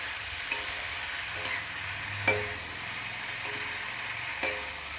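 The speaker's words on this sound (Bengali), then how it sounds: "এবার ভালো করে নাড়াচাড়া করে মিশিয়ে নেব, খুব সুন্দর করে মিশিয়ে নেব" Bottle gourd greens being stirred and mixed in a frying pan for lau shaker chochchori, a low sizzle beneath several sharp scraping strokes of a utensil against the pan spaced about a second apart, with no talking.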